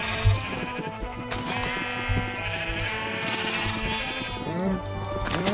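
Several sheep in Minecraft bleat repeatedly in overlapping calls, close and clear over a steady background hum.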